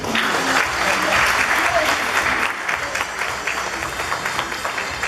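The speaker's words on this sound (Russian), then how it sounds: "Аплодисменты." Audience applause at a presentation of Tatar cultural group leaders, dense and loud at first, then thinning into scattered claps toward the end.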